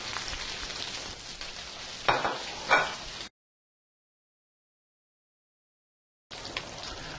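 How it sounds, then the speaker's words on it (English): Scallops searing in a hot pan with leeks nearby, giving a steady close sizzle with two brief louder crackles. The sound cuts to silence in the middle before the frying noise returns, with no voices. "Okay, so we're searing these scallops."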